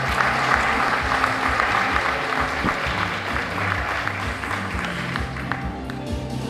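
Steady, full applause from an audience at a Teacher of the Year event, dense clapping that keeps going for several seconds with music playing underneath.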